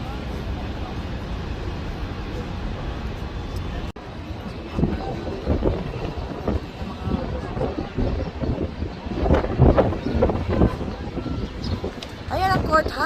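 Strong wind buffets the microphone on an open-top hop-on hop-off tour bus in New York, a steady loud roar with gusts and traffic rumble underneath, rising toward the end.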